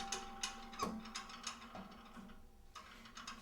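Pilates reformer springs being swapped to a lighter blue spring give off a quick series of metallic clicks and clanks, close and fairly quiet, in an uneven rhythm with no one talking.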